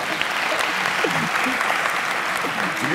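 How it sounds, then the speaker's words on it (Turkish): Audience applause on a Turkish talk show, a steady wash of clapping from a crowd that fills the whole stretch at even loudness, with faint voices underneath. "Bence bir alkışlayın hanımefendi şu an."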